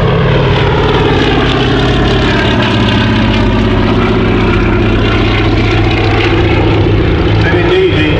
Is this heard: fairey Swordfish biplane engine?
yes